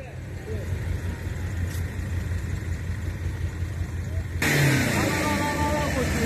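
A vehicle engine revs and hums steadily as it moves toward the water, rising louder near the end, while several people talk over it throughout.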